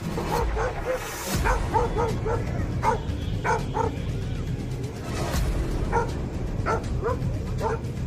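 A bull terrier barks in a run of sharp, repeated yips and bow-wows, some whimpering, close and fairly loud throughout, mixed with a dramatic audio story scene.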